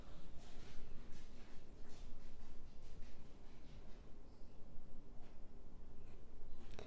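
Pencil or pen scratches across paper while a math problem is written out by hand, a quiet, close, continuous rustle of short strokes with small pauses between marks.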